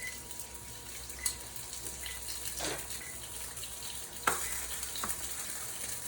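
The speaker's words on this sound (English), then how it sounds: "You can hear a nice sear to those guys." Chicken sizzles and crackles steadily while searing in a hot pan, with a few sharper pops and clinks of tongs, close up and with no talking.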